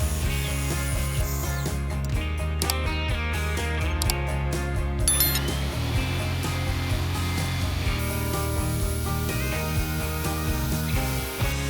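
Bandsaw cutting through a wooden 2x4 base, a sustained mechanical whine with layered tonal hum, and a brief run of rapid chattering bursts midway as the blade bites the wood.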